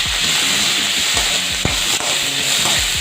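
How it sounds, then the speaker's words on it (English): Onions fry in a kadai for a mixed vegetable curry, giving a steady, close sizzling hiss with repeated soft scrapes of stirring. "We have to add onions also, and until the onions is golden brown we have to fry them."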